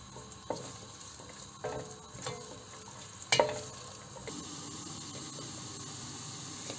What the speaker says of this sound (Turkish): Önce biraz havuçlarımı pişiriyorum.